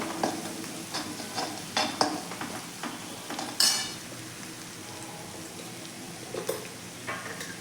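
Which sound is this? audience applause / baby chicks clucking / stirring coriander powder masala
stirring coriander powder masala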